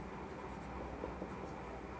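Soft scratching of a pen writing by hand on paper while working through a maths shortcut, faint and steady, close to the microphone with a quiet room background.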